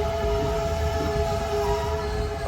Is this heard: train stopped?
yes